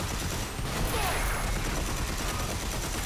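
Dense video game gunfire from Red Faction Armageddon, a continuous loud barrage of overlapping shots and blasts that fills the whole stretch with no clear gaps.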